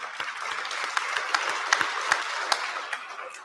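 Audience at a grand opening applauding, a crowd's clapping with distinct individual claps popping out of the steady patter, medium distance and fairly even.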